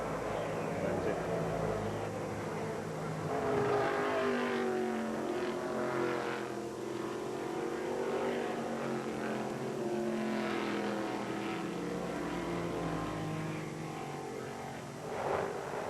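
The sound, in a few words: race cars at 1980 SCCA GT-1 National Championship race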